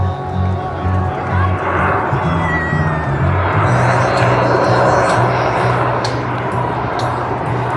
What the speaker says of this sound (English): the Raptors slow speed pass